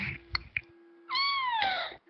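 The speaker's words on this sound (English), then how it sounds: "It's a cute cat, though. It's like purring like crazy." A cat gives a clear, drawn-out meow close by after a few soft chirps, alone without talk; any purring is not distinct.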